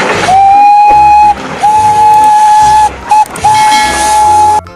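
Toy Thomas train steam whistle, loud and close, sounding in several long sustained blasts with short gaps, a steady high whistle tone over hissing steam.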